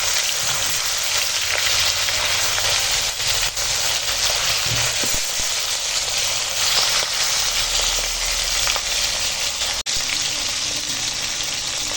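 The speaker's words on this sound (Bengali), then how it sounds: "এখন মাছ ভেজে নেবো" Fish rubbed with salt and turmeric frying in hot oil, giving a steady, dense sizzle that stays loud and continuous throughout with no talking.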